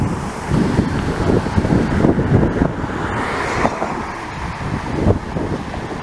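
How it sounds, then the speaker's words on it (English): Strong gusts buffet an outdoor microphone during plane spotting in Montreal, a continuous loud, rough roar that swells and dips throughout with no speech. "Very windy today."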